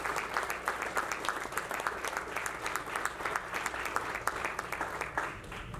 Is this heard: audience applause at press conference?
yes